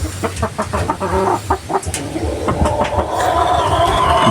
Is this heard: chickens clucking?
yes